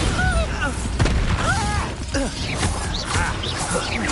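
Bombarda blasting spells go off in a Hogwarts video game, with a few dull booms and crashes among game sounds and voices talking throughout.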